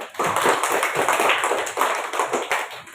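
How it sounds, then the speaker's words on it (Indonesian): Children in a classroom clap for a classmate, a brisk, bright patter of small hands that carries steadily throughout, fairly close and loud, with no talking over it. "tepuk tangan untuk temannya"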